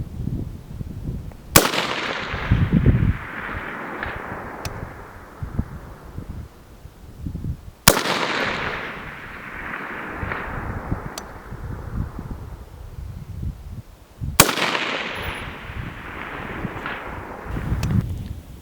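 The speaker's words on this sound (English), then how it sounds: "you can get 6 in a row at 600 yards with that gun" Three sharp AR-15 SPR rifle shots fired toward targets at 600 yards on a gusty day, spaced several seconds apart, each a loud crack with a long rolling echo that fades into wind noise.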